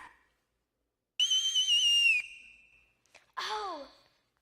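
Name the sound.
whistle blown to call the children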